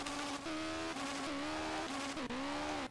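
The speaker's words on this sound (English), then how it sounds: "Red lines at 9k, the car starts revving it from 9k." A car in Street Legal Racing Redline, redlining at 9,000 rpm, revs hard and continuously as a loud, high, strained engine whine that rises and falls with brief dips between pulls, close and alone.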